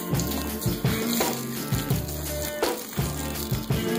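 Water poured and splashed from a bucket while wet-sanding clear-coated artwork, a continuous close splashing and gurgling with rhythmic pulses, no talking.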